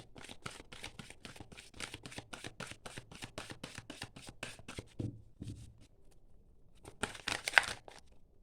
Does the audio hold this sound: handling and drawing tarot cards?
yes